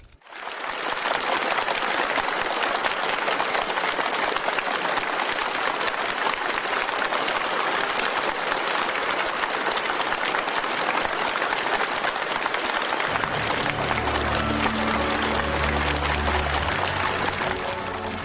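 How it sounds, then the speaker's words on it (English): Warm, sustained applause fills a large formal hall at an international summit of heads of state, a dense steady wash of clapping that continues without pause before fading into lower background sound. "Following warm applause"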